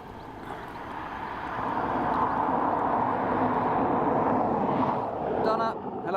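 A 17-year-old Airbus A320 airliner arriving from Amsterdam at Dublin Airport roars in as a broad, swelling engine rumble that builds and holds loud, with a brief voice near the end.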